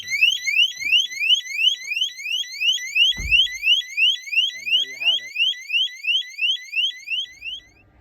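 A loud vehicle security alarm wails in rapid repeating upward sweeps, continuous and piercing, with a brief thud partway through.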